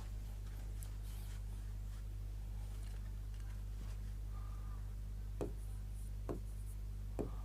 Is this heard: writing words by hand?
yes